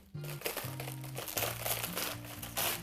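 A vegetable being torn open by hand while preparing vegan kimchi, producing close, soft crinkling and tearing over a steady low drone.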